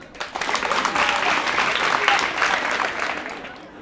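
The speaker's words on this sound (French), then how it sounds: "Applaudissez pour eux" Audience applause at a school event, a crowd clapping steadily at moderate level, rising quickly and tapering off after a few seconds.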